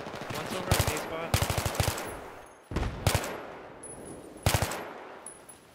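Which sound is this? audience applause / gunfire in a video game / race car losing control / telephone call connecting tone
gunfire in a video game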